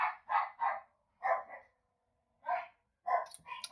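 Several dogs in a home bark in short bursts, a few sharp yips and woofs with pauses between, fairly close and loud with no talking over them.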